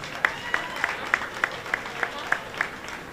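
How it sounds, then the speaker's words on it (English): Guests at a Jamaica 60 launch reception in New York clap for the Prime Minister of Jamaica, a soft, steady patter of applause under a regular beat of sharp taps, heard from a distance. "I'm going to ask you to give him another big round of applause."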